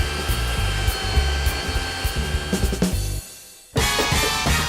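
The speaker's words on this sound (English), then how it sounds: "isn't there a table outside that needs sanding?" Power sanding on a wooden table outdoors, a whirring motor drone with rhythmic pulsing as the sander moves, briefly dropping out near the end before starting up again loudly.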